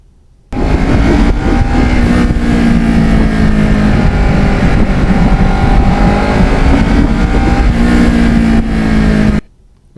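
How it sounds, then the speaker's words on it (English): Motorcycle engine droning loud and close on an open road, a steady humming tone that rises and dips slightly as it runs through the gears, with no voices. "just listening to the motor, going through the gears, wonderful"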